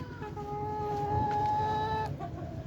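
Layer hens cluck and chatter close by, a few overlapping tonal calls drawn out over a low background murmur of the flock, with no talking.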